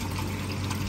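Water pouring steadily into a hydroponic garden tank as a 20-liter portion is added, a continuous close rushing splash with no break.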